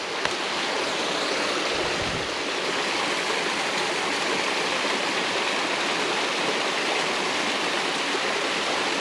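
A creek runs through a little valley, giving a steady, full rushing and babbling of water that stays constant and close throughout, with no voices.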